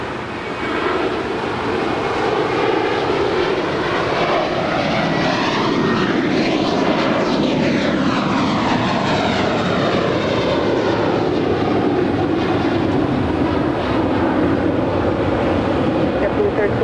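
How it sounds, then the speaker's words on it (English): A JetBlue Airways Airbus A321 takes off down runway 25 right at LAX, its jet engines a loud, steady roar that holds throughout with a sweeping rise and fall in tone as it passes. "JetBlue Airways flight 1374 heading to Newark in an A321. Now rolling down 25 right."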